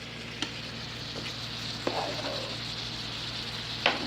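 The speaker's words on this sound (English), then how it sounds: "All right, so you just cook down the meat." Ground turkey frying in a pan, a soft steady sizzle with a few faint clicks of a utensil, quiet and close, with no speech.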